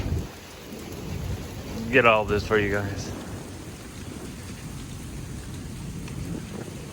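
Rain falls steadily during a thunderstorm over Highland County, Ohio, a mesoscale convective system, with low rumbling underneath as someone speaks briefly near the start.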